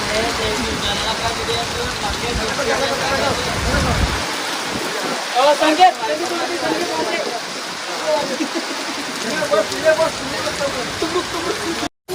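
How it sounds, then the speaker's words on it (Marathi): Steady, heavy rain pours down in a continuous hiss, with some voices and a rise in closer drips partway through. "बघा तुम्हाला पाऊस दाखवतो"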